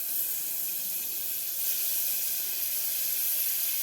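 Butter sizzles in a pressure cooker as a steady, even, hissing fry, close and continuous with no voices over it.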